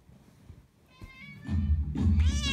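A grey cat meows, building from quiet rustling into a couple of louder, drawn-out meows near the end, with a person's voice close by.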